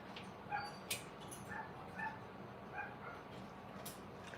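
Young puppies, drowsy after their rabies shots, give faint, scattered high yips and whimpers over a steady indoor hiss, several short cries spaced irregularly with no one talking.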